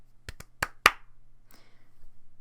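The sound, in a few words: hand clap close to the microphone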